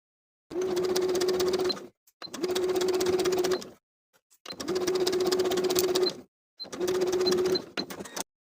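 A domestic sewing machine stitches elastic onto a bralette with a 2.5-width, 3-length zigzag, running in four steady bursts of about a second and a half each, separated by short pauses, loud and close.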